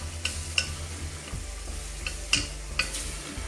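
Melted butter and flour cook together in a pan for a cheese sauce, a quiet sizzle running underneath as a utensil stirs, with several distinct scraping clicks against the pan at irregular intervals.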